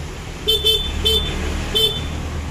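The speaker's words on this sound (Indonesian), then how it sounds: "ini suara klakson standar" A stock horn on a Honda Vario scooter beeps four times in short toots, the first two close together, then two spaced apart, over a low idling engine hum.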